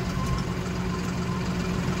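A 2024 John Deere 5405 CRD tractor with an AC cabin idling steadily up close, a constant low diesel rumble and hum with no change in pace.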